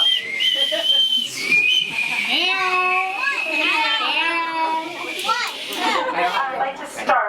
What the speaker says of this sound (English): we each have one of these whistles around our neck